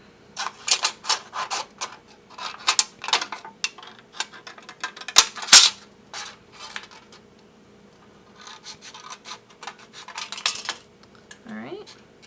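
Small beveled scissors snip through thin soda can aluminum in quick close clusters of sharp crisp cuts, with a couple of louder metallic clicks midway and fainter snipping later, without talk.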